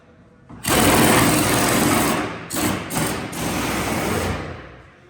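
Power tool removing bed bolts from a 1997 GMC truck, a loud, close, continuous whirring rattle that starts abruptly, briefly stutters midway, then runs on before stopping.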